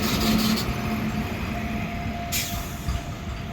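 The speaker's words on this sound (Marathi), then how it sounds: "मालगाडी चालली आहे" A goods train rolls along the railway track near Bhiwandi, giving a steady, loud rumble of wagons and wheels that continues throughout without a break.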